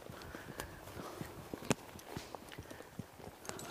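A horse walks along a wooded trail in Alaska, its hooves making soft, irregular clip-clop steps mixed with rustling underfoot, close but fairly quiet.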